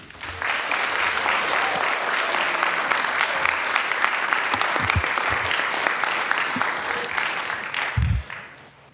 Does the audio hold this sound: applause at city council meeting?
yes